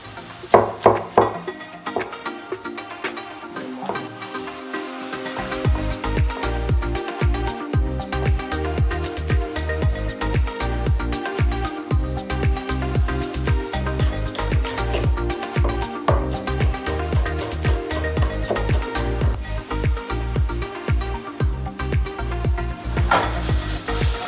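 Tofu frying in a pan amid a breakfast cook-up, a steady close sizzle with frequent clinks and scrapes of stirring and cookware, starting quieter before settling into continuous busy frying.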